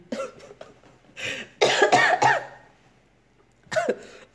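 Several sharp coughs in quick bursts, close and fairly loud, then a pause before one last cough.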